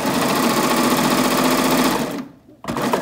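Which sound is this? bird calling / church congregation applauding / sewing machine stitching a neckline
sewing machine stitching a neckline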